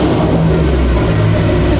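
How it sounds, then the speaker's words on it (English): Loud, steady drone of a Mercedes SLS AMG GT3 race car engine running close by, a constant low rumble with no change in pitch or pauses. "This car is way too noisy."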